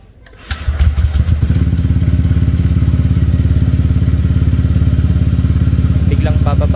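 A remapped motorcycle engine cold-starts with a thump, then settles into a loud, rapid, steady idle putter close to the mic, with a brief higher clatter near the end.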